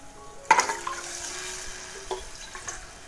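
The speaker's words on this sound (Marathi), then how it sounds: "आता हे पाणी टाकूया." Water is poured into a hot pan of sautéed food and sets off a sudden sharp burst of sizzling, which then settles into a softer bubbling hiss with a few small splashes.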